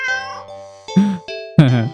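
A cat meows repeatedly, four distinct calls of varying length and pitch, close and fairly loud with no talking over them.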